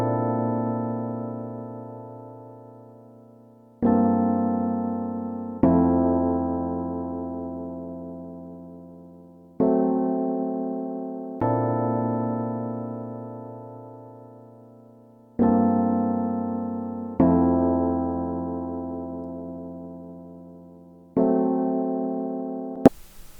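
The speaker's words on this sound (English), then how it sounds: "sample with the electric piano," Electric piano plays a simple repeating three-chord progression for a nostalgic R&B sample, each chord struck and left to decay, restruck every few seconds, clean and close with no voices.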